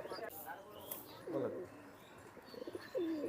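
Pigeons of a traditional Khulna red breed at a loft give soft, low coos, with people talking nearby.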